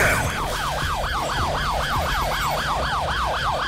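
Police sirens wailing in the video game Need for Speed Most Wanted, several rising and falling loudly and continuously over engine rumble.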